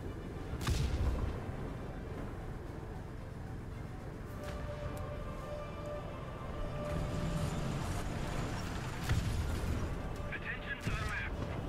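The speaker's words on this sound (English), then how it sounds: "We definitely called artillery on his location." Artillery strike in War Thunder, heavy distant booms and crackling impacts repeating over several seconds, rumbling under ongoing tank gameplay noise with people talking over it.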